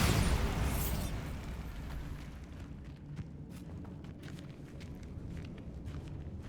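A Bombarda spell explosion in the Hogwarts Legacy video game: a loud, close burst at the start, followed by a long rumbling decay that fades to a low background over several seconds.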